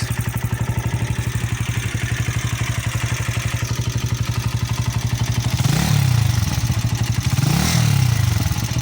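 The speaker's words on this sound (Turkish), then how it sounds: "Motorun sesini dinletelim biraz." An Arora motorcycle engine idles steadily with a rapid, even putter, then revs up twice briefly before settling back; no talking.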